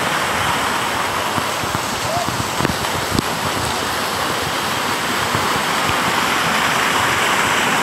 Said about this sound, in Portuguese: E a cascata aqui, ó.